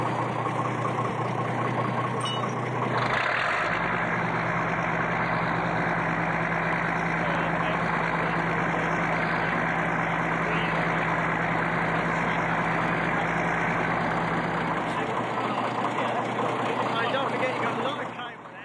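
The crane King Kong's engine runs steadily as it winches in slack to pull the main jib of a steam digger out of the water at the Blue Lagoon. It is a loud, continuous mid-pitched drone that lasts almost the whole time, with voices faintly present.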